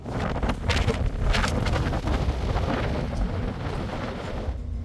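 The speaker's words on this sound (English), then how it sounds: "we got absolutely hammered by wind in this cove." Strong wind roars steadily around a new yacht anchored in a sheltered cove, a loud continuous buffeting rush with gusty surges and no voices.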